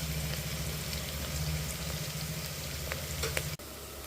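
Onions frying in a pan for chicken biryani, a continuous close sizzle over a low steady hum, with a few light scrapes and a sudden cut near the end, no voices.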